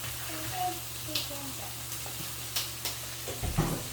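Shredded chicken breast stirred in a hot pan, with soft sizzling and scraping strokes of a utensil, fairly quiet, with a few sharper clacks near the end.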